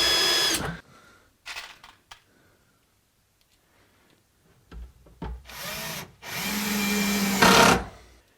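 A Bosch power drill drives screws into workbench cabinets in short bursts: a few brief whirs early, then two longer loud runs near the end, separated by quiet handling noise.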